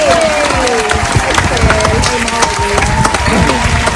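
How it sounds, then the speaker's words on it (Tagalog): Guests clap together at a family birthday celebration, a loud sustained patter of many hands close by, with cheering and talk threaded underneath. "Isang palakpak naman sa ating celebration."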